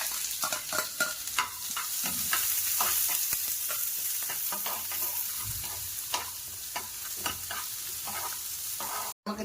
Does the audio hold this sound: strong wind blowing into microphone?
no